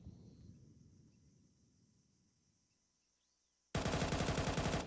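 Counter-Strike match gunfire: faint rapid shots fade through the first seconds, then a loud, close burst of rapid automatic fire sprays steadily to the end.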